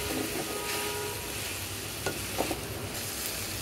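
Okra frying in a pan with salt and turmeric, stirred now and then. A steady close sizzle fills the whole stretch, with a few brief clicks of a utensil moving the pieces.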